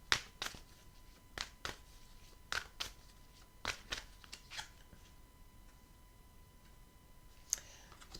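Tarot cards are shuffled and laid down on a surface in a quiet room, producing a series of soft, close riffles and flicks spaced irregularly, with no talk.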